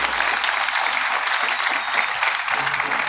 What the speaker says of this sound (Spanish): Denle ese aplauso bien fuerte al Señor